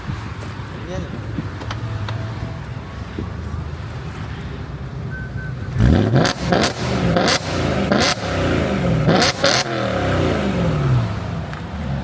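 A BMW E93 320 diesel car engine with an upgraded intake idles roughly, then revs sharply several times with rising and falling sweeps, loud and close, while people talk over it.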